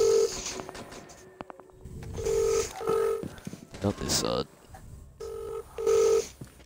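In a Rainbow Six Siege match, a phone call is dialed: short electronic tones and ringing beeps come in several bursts while players talk over them.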